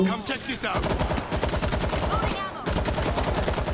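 Sustained automatic gunfire at zombies in the video game World War Z, a loud, rapid, continuous stream of shots with a brief break near the middle, while players shout over it.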